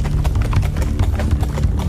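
Horses' hooves clip-clop steadily and densely as a large party of chariots, horses, servants and guards sets off, a continuous close rhythm of many overlapping hoofbeats with no talk.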